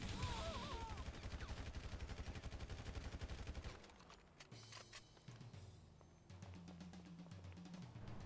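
A magazine is dumped from a gun in GTA V with a gore mod installed, giving a rapid, evenly spaced burst of loud shots lasting several seconds, followed by scattered impacts and softer mechanical clatter.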